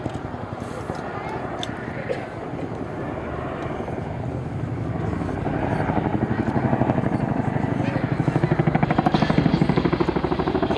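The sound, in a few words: Boeing Chinook helicopter flying, performing a quick stop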